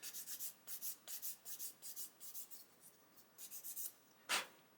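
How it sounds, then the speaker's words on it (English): Fine sanding of a sprue nib on a plastic Ju 87 Stuka 1/35 model kit part, quiet rhythmic back-and-forth rubbing strokes in close succession, pausing briefly, then a single sharper scrape. "we're going to see if I can sand away this sprue nib without making too much mess"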